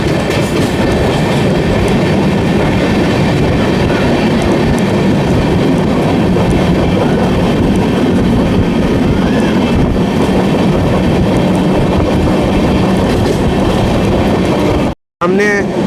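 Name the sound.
Amrit Bharat Express train accelerating past Kumhari station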